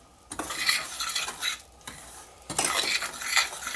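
A spoon stirs lemon juice and zest into a thick lemon meringue pie filling in a bowl, giving two bursts of brisk, close scraping and swishing with a short pause between them, no voices.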